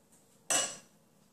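A spoon scrapes and clinks once against a pie dish while levelling raspberries, a short bright metallic scrape close up in an otherwise quiet kitchen.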